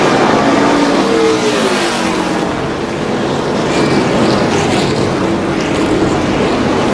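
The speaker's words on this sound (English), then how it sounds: "Listen to the fans roar as the cars come by the grandstand for the first time." NASCAR race cars at the 2002 Pennsylvania 500 roar past the grandstand, loud engine noise swelling and sweeping by with pitch shifts, blended with a continuous crowd roar from the fans.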